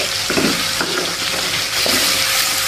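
Simple nasi goreng with fried shallots, sliced shallots and chili is stirred in a hot pan, giving a continuous close sizzle with scraping stir strokes throughout and no talk.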